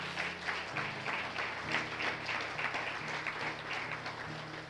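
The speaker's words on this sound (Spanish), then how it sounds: "Dale un fuerte aplauso al Señor." Church congregation clapping in praise during a Bible study service, a steady wash of applause over a held musical tone, moderately loud and continuous throughout.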